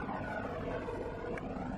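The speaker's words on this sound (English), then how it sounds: "There's the sheriff helicopter." A sheriff's helicopter passes overhead as a steady, faint broadband rotor and engine roar with no breaks, with wind buffeting the microphone.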